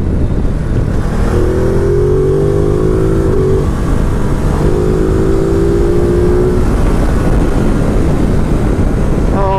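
A 2019 Ducati Multistrada 950 S motorcycle engine revs and accelerates through the gears, its pitch climbing twice, loud and close with steady wind and road noise underneath.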